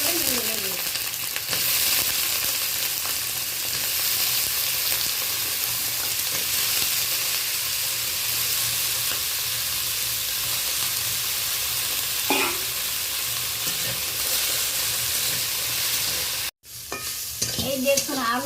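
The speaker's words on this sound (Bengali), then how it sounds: "এই দেখুন আলু বেগুনটা হালকা লালচে করে আমি ভেজে নিয়েছি" Potato and eggplant pieces sizzle loudly in smoking-hot oil, a steady close frying hiss broken by a few scrapes of stirring, with a brief dropout near the end.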